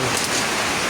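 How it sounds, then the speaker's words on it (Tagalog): Heavy rain pours down steadily in a dense, continuous hiss with no pauses, loud and close. "Grabe yung ulan."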